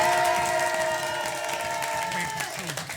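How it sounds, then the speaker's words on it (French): Audience applause and cheering greeting a performer introduced on stage, a loud burst of clapping with whoops and shouts, voices audible within the crowd noise throughout. "Je vais le présenter et là, vous applaudissez à tout rompre."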